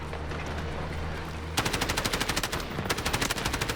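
Automatic gunfire in the shooter game Delta Force breaks out in fast, evenly spaced bursts of loud shots, pauses briefly, then resumes with another rapid string.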